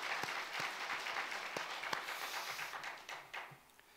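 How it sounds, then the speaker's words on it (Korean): A church congregation claps together in praise after a sermon passage, a fairly faint, steady wash of applause that thins and fades out toward the end. "하나님께 박수를 한번 드리겠습니다"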